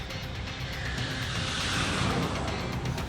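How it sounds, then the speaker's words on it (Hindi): Sukhoi and Mirage fighter jets landing on the Agra-Lucknow Expressway, a loud, steady jet engine roar that swells slightly and holds through the whole stretch. "सिर्फ सुखोई ही नहीं, फाइटर जेट मिराज ने भी हाईवे पर अपना दमखम दिखाया।"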